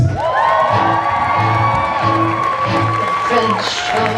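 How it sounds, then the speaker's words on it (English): An audience at a circus festival cheers and whoops for the first act of the evening, a loud sustained crowd roar with shouts and a whistle-like cry rising above it. "Could everyone please make a huge, huge, huge clap for our first act this evening"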